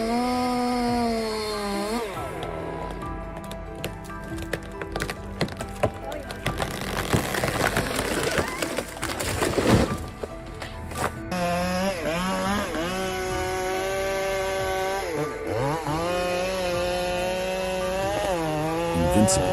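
A large chainsaw runs steadily while felling a giant leaning tree, its engine whine rising and falling as it cuts, heavy and continuous through most of the stretch with a brief surge near the middle.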